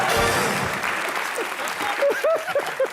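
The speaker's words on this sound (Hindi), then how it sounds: "जोरदार तालियां नवजोत सिंह सिट्टू के लिए।" Loud clapping from a TV comedy show's studio audience, dense at first and then thinning as a host's voice talks over it.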